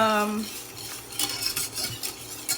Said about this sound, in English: I just added in about 2 tablespoons of maple syrup, and I'm whisking.